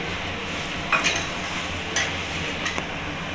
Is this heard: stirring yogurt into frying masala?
yes